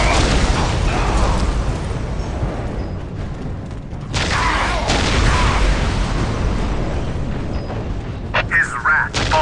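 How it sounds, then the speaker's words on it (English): Whirlwind artillery tank missile barrage in a Dawn of War battle, heavy rumbling explosions rolling continuously, loud and dense, with bursts swelling midway and sharp pops near the end. "Preparing whirlwind missile battery to fire."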